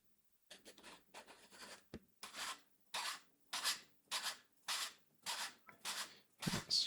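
Short, repeated rasping twists as a threaded part is screwed onto a pair of MIRPH-1 headphones, close and fairly quiet, each turn a brief scratchy rub separated by pauses.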